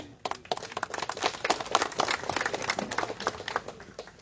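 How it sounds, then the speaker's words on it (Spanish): Scattered, fairly sparse applause from a small outdoor gathering for a local vegetable grower at a groundbreaking ceremony in Bella Vista, individual claps audible and moderately quiet, building after a brief start. "Fuerza los aplausos para ella."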